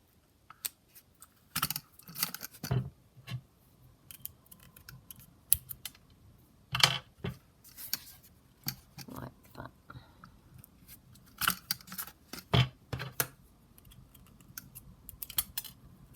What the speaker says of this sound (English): And then we just punch the holes.